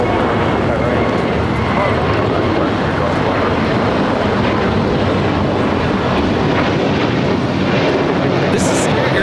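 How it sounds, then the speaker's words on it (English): An Airbus A320neo airliner takes off at LAX, its loud, steady engine roar filling the scene without a break, with voices talking over it. "This is Airlines 266 taking off to Philly on the A320neo"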